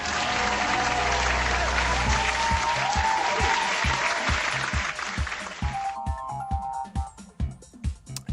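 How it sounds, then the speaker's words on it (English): Crowd applause plays loud and sustained over game music, dense clapping that breaks into a regular rhythm of claps before fading out as the music shifts to a quieter melodic passage. "Round of applause for Phil, everybody."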